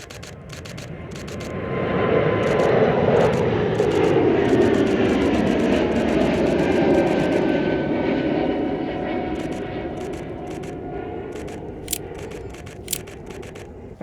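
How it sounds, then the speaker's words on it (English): Air Canada Airbus A220 jet taxiing and taking off, a rising engine roar that swells and sustains loudly, then slowly fades as the jet climbs away, with a few sharp clicks near the end. "Next up, we have the Air Canada Airbus A220 from Montreal to Toronto."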